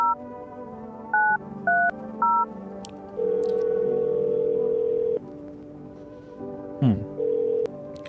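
Phone dialing tones from the horror video game No I'm Not Human: a handful of short separate keypad beeps, then a long steady tone, a brief rustle, and a final tone, clear and close with no talking.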